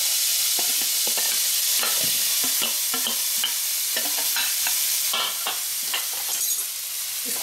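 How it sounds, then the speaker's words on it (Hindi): Prepared spice masala frying in hot mustard oil for stuffed eggplant curry, a close, steady hissing sizzle broken by repeated scraping stirs of a spoon, no talking. "मसाला जो मैंने रेडी करके रखा था उसको फ्राई करना है"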